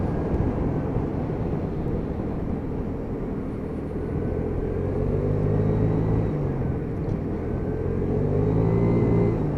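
A Piaggio Vespa PX125 scooter engine drones on a road test ride, a steady low rumble with gradual throttle swells toward the end.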